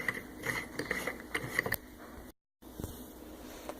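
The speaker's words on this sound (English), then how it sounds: "you're going to take your compression bolt, and you're going to put it in, and just screw it in" A compression bolt being screwed into an IHC scooter, heard close as a quick run of ratcheting metallic clicks that stops, followed by a brief silence and a faint knock.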